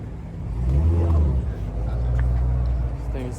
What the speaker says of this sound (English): He just put an Akrapovic exhaust on it.